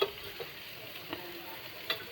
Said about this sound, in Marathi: तर याला पण फ्राय करून घेऊया एकदम कडक